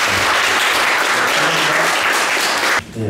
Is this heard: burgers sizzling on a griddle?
no